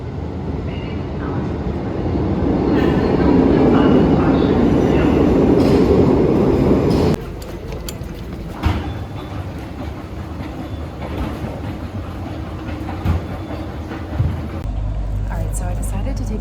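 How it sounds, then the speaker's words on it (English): Lisbon metro train running, a loud rumbling roar of wheels and carriage for several seconds, then quieter cabin noise with clicks and clunks as the train slows. "So I decided to take the train to the hospital"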